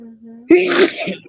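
A sharp, loud sneeze bursts out right after a brief murmur, close to the listener.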